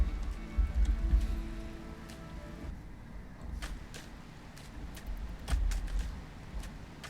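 Steady rain patters over a low rumbling backdrop in the video game Rimworld, with occasional sharp ticks and clicks breaking through the soft, continuous wash.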